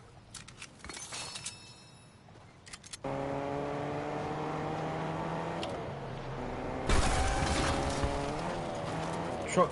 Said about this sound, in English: Truck comes out of nowhere.